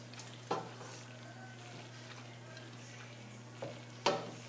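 Noodles stirred in a pan as pork fat melts, a quiet steady sizzle under a low hum, broken by a few sharp utensil clinks against the pan.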